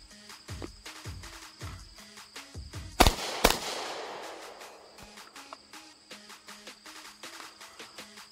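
Pistol shots during a live-fire training session: two sharp, loud reports about half a second apart near the middle, with faint background noise and distant pops before and after.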